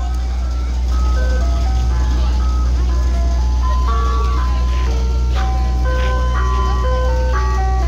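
Ice cream truck with a loud idling diesel rumble underneath its tinkling jingle melody, heard close as it is approached, with a person talking over the music.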